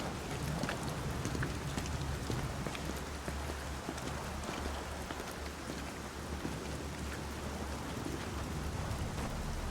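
Rain falls at night in the video game Metal Gear Solid V: Ground Zeroes, a steady, fairly quiet wash of drops with low rumbling underneath and no voices.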